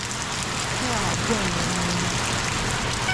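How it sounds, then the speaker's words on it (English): Rain falling during a flood-producing storm, a steady, dense hiss of drops on surfaces that holds even throughout with low rumbling underneath. "we certainly haven't missed the rain"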